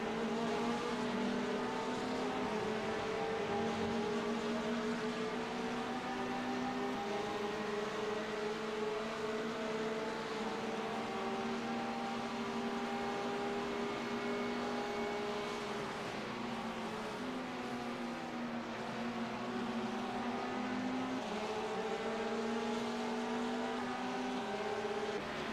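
GT3 race cars at Monza in a racing video game, several engines droning and shifting pitch together in overlapping tones, a continuous steady roar of the pack running at distance.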